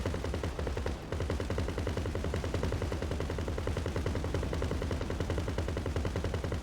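Rapid automatic gunfire in GTA Online rattles on in dense, loud bursts, nearly continuous apart from a brief break about a second in, with no speech.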